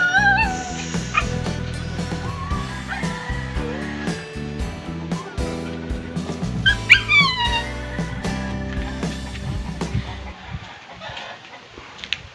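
A small dog yips and barks a few times over a dense, busy mix of background music and clucking farmyard noise on an island.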